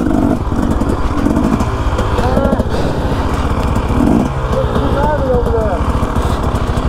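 A motorcycle engine chugs steadily in first gear while creeping over rocky ground, a loud, close, continuous throb with slight surges, as a rider talks over it.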